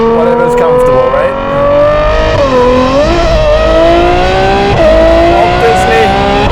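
A 1000 hp McLaren 720S with a Novitec exhaust accelerates hard on a desert road, its loud engine note climbing steadily through gears with short dips at each shift, heard from inside the car.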